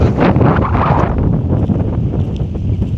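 Strong wind buffets the microphone in a steady, loud roar with low rumbling gusts throughout on a peanut farm, no voices heard.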